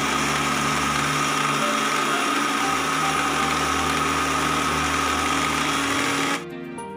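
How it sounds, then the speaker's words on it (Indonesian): A kitchen blender crushes ice cubes to a fine texture for Indonesian bakso meatball dough. Its motor gives a loud, steady, continuous whir for about six seconds, then cuts off abruptly. "kita blender dulu es batunya ya guys sampai halus"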